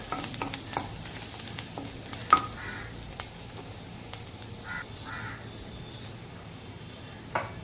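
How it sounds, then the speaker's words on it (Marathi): Garlic pieces frying in a pan for mushroom soup, a soft low sizzle with occasional clinks and stirring scrapes, fairly quiet, with a few faint outdoor bird calls in the background. "लसूण घेतले तर त्याचे तुकडे करून घेतले, ते आता आपल्याला या चांगले फ्राय करून घ्यायचे"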